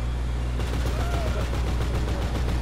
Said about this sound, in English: Oh, that's the sound of the gun.